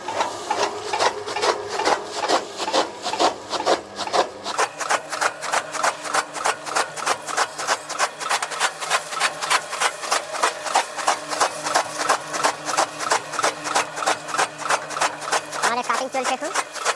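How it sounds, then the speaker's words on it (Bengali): A straw-cutting machine chopping 34 kg of straw for urea-treated cattle fodder, running with a fast, steady mechanical clatter of repeated strikes that picks up after a quieter start and stays loud for the whole stretch. "এই যে আমাদের মেশিনে কাটিং শুরু করে দিলাম।"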